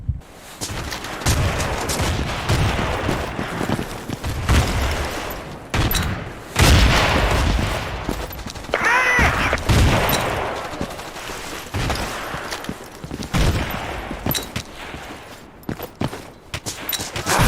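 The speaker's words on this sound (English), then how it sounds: "Frag grenade." Frag grenade explosion and gunfire in Battlefield 2, with bursts of rapid automatic fire and booming blasts throughout, loud and close, no talk.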